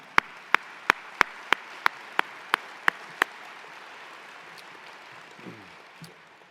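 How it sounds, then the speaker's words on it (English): Applause fills a room during a governor's State of the State address, with several sharp, evenly spaced claps near the microphone over softer crowd clapping that fades away. "Let's give John O'Connor a round of applause."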